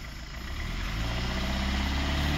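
A Maruti Swift Dzire engine undergoing decarbonization has its accelerator pressed, building from a steady idle into a louder, sustained low rumble that holds for a couple of seconds, close by with no talking.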